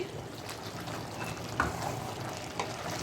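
Ginger and mixed vegetables stirred in a pan for a niramish panch torkari, a soft continuous sizzle with scraping strokes and a couple of sharper clicks, steady and fairly quiet with no talk.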